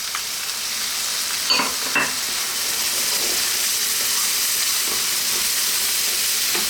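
Chopped whole canned tomatoes and tomato paste cooking in a hot pan, a loud, continuous sizzle and hiss with a couple of brief stirring knocks early on.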